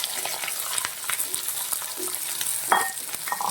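Onion and green chilli frying in a pan for a tomato dish, with a steady close sizzle, occasional stirring scrapes and a brief louder spatter near the end, no talking.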